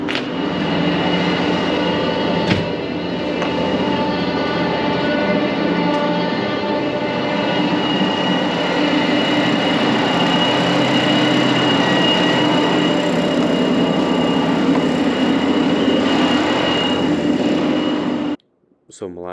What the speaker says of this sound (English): Flip this switch, turn this pump on.